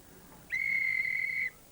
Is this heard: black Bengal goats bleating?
no